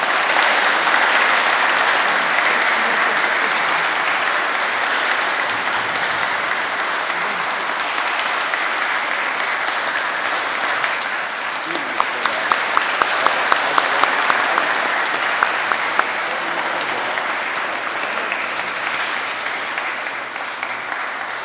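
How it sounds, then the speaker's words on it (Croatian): An audience applauds a musician with steady, dense clapping that runs for about twenty seconds, with a brief burst of sharper, louder claps midway and no voices over it. "ja mu želim da mu od srca jednim pljeskom zahvalimo i čestitamo"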